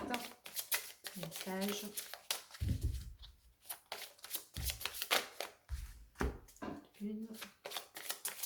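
Tarot cards are shuffled and drawn in quick, crisp riffling bursts and slaps, close to the microphone, interleaved with someone speaking French softly between the handling.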